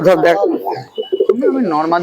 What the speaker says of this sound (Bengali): দেখুন কবুতরগুলো দেখুন নরগুলো